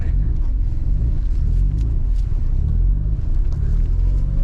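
A heavy, uneven engine drone rumbles constantly as a rough-running, poorly maintained 1987 Mazda FC RX-7 drives, low and loud throughout, with faint talk mixed underneath.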